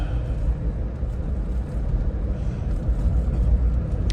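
2009 Land Rover Defender 110 TDCi XS Station Wagon with ABS and traction control, driving and braking, heard from inside as a steady, loud low engine and road rumble without talk.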